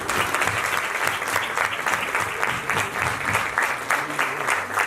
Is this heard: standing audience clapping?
yes